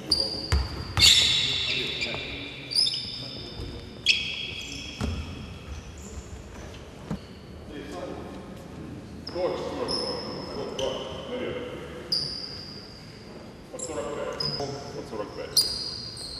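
Repeated basketball bounces ring out on an indoor court during a coaching master class in Dnipropetrovsk, irregular and fairly close, with voices and court noise around them.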